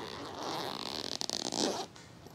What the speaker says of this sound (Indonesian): Dan bagian dalamnya ini ada resletingnya. Resletingnya kayaknya sih resleting YKK